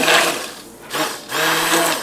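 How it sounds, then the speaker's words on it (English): Immersion blender whirring through hot spicy sweet potato soup in a kitchen, loud motor bursts with a short dip in the middle before revving up again. "I'm going to go in with an immersion blender and blend this up"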